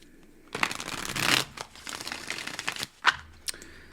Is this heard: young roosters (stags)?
no